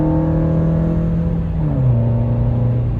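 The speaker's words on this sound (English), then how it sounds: "if you step on it a little bit, you get some intake noise." Steady engine drone from inside a 2004 Camry rises into a deeper, louder intake roar as the throttle opens, pitch shifting downward midway.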